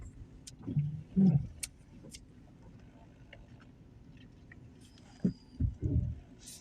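A car drives on a foggy road, heard from inside as a low, steady interior rumble with several soft thumps and bumps, without talk.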